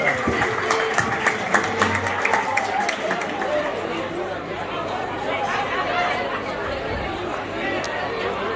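A festive crowd at a village fête claps for the local firefighters' association, a steady dense patter of applause mixed with lively chatter and voices throughout.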